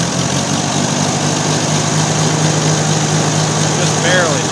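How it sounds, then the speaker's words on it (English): A Ferguson TO20 tractor engine runs steadily close by, loud and continuous with a low throbbing drone, holding a constant pace rather than rising sharply. "I'll rev the engine up"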